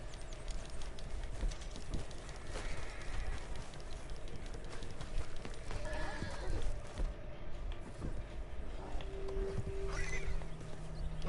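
A horse in Red Dead Redemption 2 whinnies and snorts while its hooves clip-clop and shuffle, set against a steady outdoor ambience with a faint tonal hum late in the scene.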